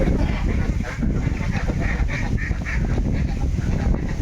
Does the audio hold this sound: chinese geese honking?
yes